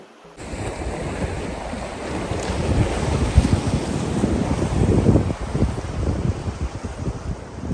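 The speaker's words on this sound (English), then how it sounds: "Can you hear the sound of these beautiful waves behind me?" Ocean waves washing onto a beach at Mana Island, Fiji, a steady rolling surf heard alone with no talk, mixed with gusty wind buffeting the microphone throughout.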